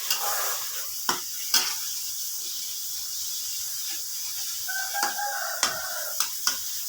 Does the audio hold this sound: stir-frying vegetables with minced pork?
yes